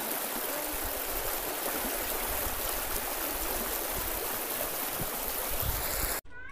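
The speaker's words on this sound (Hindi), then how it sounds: "नदी बह रहा है" A river flows steadily near farmland in a village, a continuous broad rushing and gurgling of water, close and fairly loud throughout before cutting off briefly at the end.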